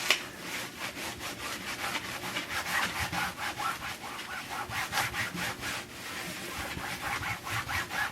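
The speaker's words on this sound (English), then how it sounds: "I am gently rubbing over the surface of the paint." Steady back-and-forth rubbing over a freshly painted pillow surface, a dense, even scratchy sweep repeating in quick strokes close by, with no talking.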